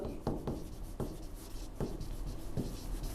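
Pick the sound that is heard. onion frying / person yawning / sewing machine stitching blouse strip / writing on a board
writing on a board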